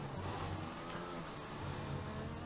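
The F1 2021 video game racing car engine drones steadily and faintly at Jeddah, Saudi Arabia, with a continuous low hum and no clear revving peaks.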